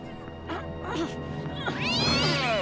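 A cat yowls and meows in the Batman animated series, a rising, wavering caterwaul that swells loudly toward the end over a background soundtrack.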